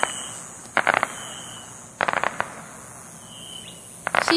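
Distant fireworks popping in short crackling bursts at about 0.8, 2.0 and 4.1 seconds, during a 4th of July evening outdoors, with quiet ambient background between the bursts.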